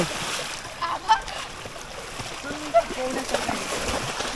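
Splashing and sloshing water with children's voices calling out as they bathe outdoors in Konkan during the monsoon, a few sharper splashes standing out against a steady watery background.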